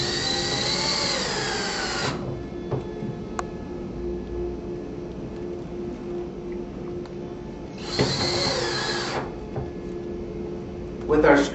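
A power drill drives a small screw into a shutter bypass track header, two bursts of whirring a few seconds apart with a quieter stretch between them, heard close and alone.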